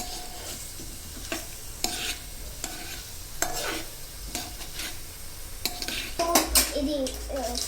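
Ginger, green chilli paste and curry leaves stir-fry in a pan, with a steady low sizzle broken by repeated scraping and clinking of a spatula against the metal, louder knocks near the end.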